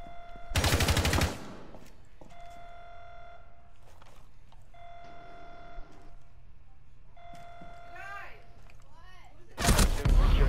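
Video game shooter gunfire rips out in two loud rapid bursts, one near the start and one at the end, with quieter electronic game tones and effects in between.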